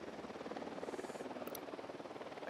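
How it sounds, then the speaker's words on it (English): Helicopter in the video game Ghost Recon Wildlands, a steady rotor thrum holding at a moderate distance throughout with no talk over it. "UNIDAD chopper, stay low."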